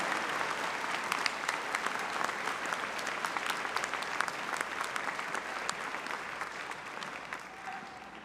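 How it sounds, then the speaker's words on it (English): A commencement audience gives a warm, sustained round of applause for newly graduated students at Athens State University, dense clapping from a large crowd that keeps up evenly throughout. "Let's give another warm round of applause to this year's newly minted graduates."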